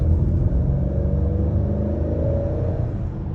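A 2022 Acura TLX A-Spec accelerates on the road in normal mode under light throttle, its engine giving a steady, loud low rumble with a rising tone, heard from inside the car with no talk.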